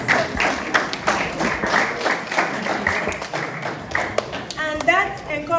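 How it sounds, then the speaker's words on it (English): A seminar audience at Agritech City breaks into close, brisk applause, many hands clapping in a dense irregular patter with some whoops and voices mixed in toward the end. "we can give a round of applause to ourselves"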